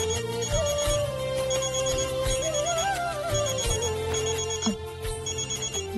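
A mobile phone ringtone plays a repeating melodic ring at moderate volume under a dense layer of background music, with no talking.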